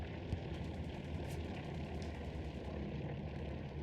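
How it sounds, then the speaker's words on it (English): World War II planes fly overhead dropping supplies in the online shooter Hell Let Loose, a steady, loud propeller-engine drone rumbling through the whole stretch with no break. "Are hearing some planes drop some things."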